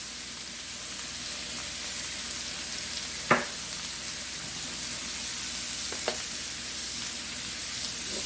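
Onions and tomatoes sizzle steadily in a hot pan, making a constant close frying hiss with a couple of brief clinks partway through and no voices.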